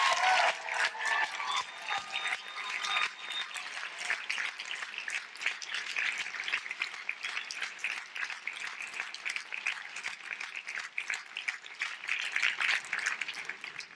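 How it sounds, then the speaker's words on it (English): Sustained applause from a large audience at a Harvard commencement ceremony, a dense wash of clapping that holds steady and loud for the full fourteen seconds with no speech over it. "they deserve a huge round of applause"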